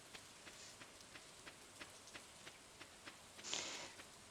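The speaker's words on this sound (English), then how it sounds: "Okay, Lewis, where do you go on a rainy day?" Faint rain patters softly in the Stardew Valley video game, with light repeated drip ticks and a brief brighter splash near the end.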